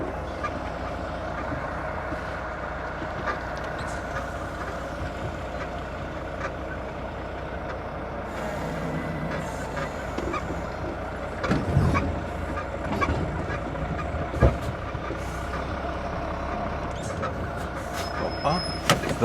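A loaded grain truck rolls onto a weighbridge with a steady, close engine drone and low rumble throughout, and a few clunks and knocks partway through as it settles.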